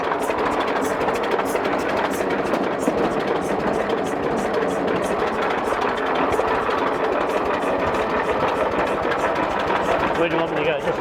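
A vehicle engine runs steadily after being shifted into gear, a dense continuous mechanical drone with a rapid rhythmic clatter, close and loud throughout.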